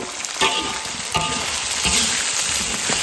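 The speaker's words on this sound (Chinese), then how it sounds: "然后中小火慢慢的把配料炒香" Ginger, garlic and fermented chili with a spoon of chili bean paste and browned meat sizzle in a wok over medium-low heat, a loud continuous crackle broken by a few scraping stirs of the spatula.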